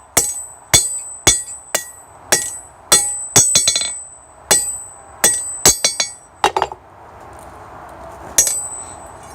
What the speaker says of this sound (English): I'm gonna keep beating this out until it's a fair bit thinner.